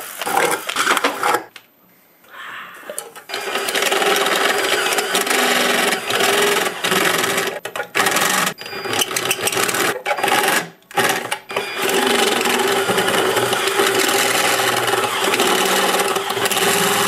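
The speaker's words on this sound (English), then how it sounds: "we're going to drill the shit out of that one" A power drill bores into an object in a loud, continuous grinding whine, broken by a few brief pauses and stops, close and without talk.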